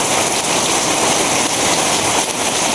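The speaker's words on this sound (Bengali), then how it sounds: "প্রচুর বৃষ্টি উঠেছে" Heavy rain pours down outside in a steady, dense hiss that stays loud and unbroken throughout, with no voices.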